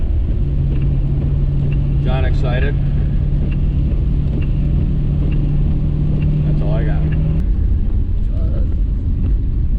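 A Nissan Skyline GT-R R34 drives along a slippery, rain-soaked mountain road in Japan, its engine and tire noise forming a loud, steady rumble throughout while people talk briefly inside the car.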